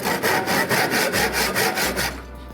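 A hand saw cuts through a wooden guitar lining strip in loud, close, rhythmic strokes, about ten even back-and-forth passes, and then stops abruptly near the end.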